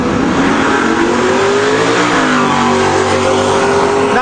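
A Chevrolet Camaro and a Ford Mustang roar down a drag strip at an NMCA West event, loud sustained engines climbing in pitch through the gears with no talk over them.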